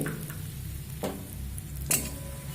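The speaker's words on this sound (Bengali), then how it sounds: "এখানে কিন্তু এই চালের গুঁড়োটা ভাজবার জন্য অবশ্যই কিন্তু ঘি ব্যবহার করতে হবে" Ground roasted rice powder fries in ghee over a low flame, a soft steady sizzle broken by a few short scraping stirs of the spoon.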